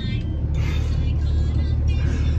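Inside the Nasty Red, a 12V Cummins diesel truck on the road: a steady, loud low engine and road rumble drones continuously with faint higher whooshes rising and falling over it.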